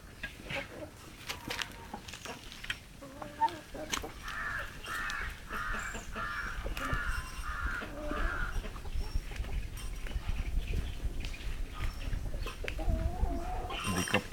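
Backyard hens and chicks cluck and call in a rhythmic run of short notes at moderate distance, set against steady outdoor background noise.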